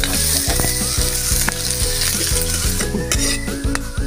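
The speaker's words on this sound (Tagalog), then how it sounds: "Pagkatapos ng pagpiprito natin ng itlog" Egg frying in a pan during home cooking of a liver-and-egg dish, with a steady, close, continuous sizzle that runs without pause and with no voices.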